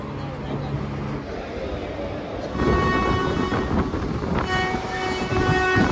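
The Teesta Torsha Express, a passenger train on the Sealdah to New Jalpaiguri route, rumbles along steadily. A loud, continuous roar of wheels and carriages grows heavier partway through, with faint tonal hums riding over it.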